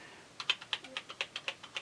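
Keys on a Tandy Color Computer 3 keyboard pressed one after another, about a dozen crisp plastic clicks in a fairly even rhythm, close and quiet, alone in a still room.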